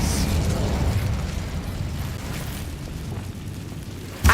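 The Incendio fire spell cast in Hogwarts Legacy: a roaring, crackling burst of flame that stays loud, fades slightly, then ends with a short sharp pop.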